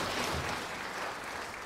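A church congregation claps hands together in praise during a Sunday worship service, giving dense, steady applause that fills the room at a moderate distance without pause.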